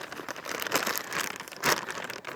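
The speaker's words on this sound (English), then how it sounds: "So I'm going to take and cut that one open." Plastic parts package being cut open, a close crinkling and crackling of plastic film with a couple of sharper tearing rustles, heard alone.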